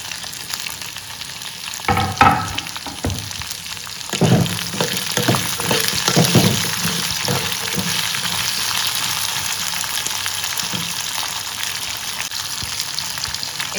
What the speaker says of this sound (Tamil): தக்காளினா நல்லா வதங்கணும்